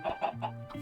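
Minecraft chickens cluck in a short run of four or five quick, close clucks with no talking.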